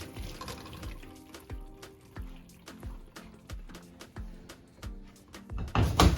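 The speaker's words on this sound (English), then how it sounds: "I'm just gonna drain the water off my potato" Water from boiled potatoes poured off through a strainer: close, splashing liquid with repeated soft pulses and drips, swelling into a louder gush at the end.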